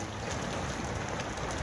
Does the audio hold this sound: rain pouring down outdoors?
yes